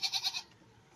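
A goat being caught lets out a quick bleat of four wavering pulses, close by but fairly soft, then falls quiet.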